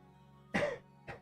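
Two coughs: a loud, rough burst followed a half-second later by a shorter, softer one, over a faint steady hum.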